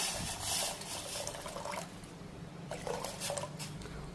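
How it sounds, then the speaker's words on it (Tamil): Water poured steadily from two tumblers into a pot to start a herbal kashayam (decoction) with turmeric powder, a continuous splashing gush with a brief pause midway, close by and alone. "ரெண்டு டம்ளர் அளவுக்கு நல்லா தண்ணி சேர்த்துக்கிறேன்"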